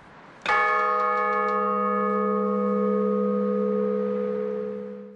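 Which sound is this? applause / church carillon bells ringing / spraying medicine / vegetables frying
church carillon bells ringing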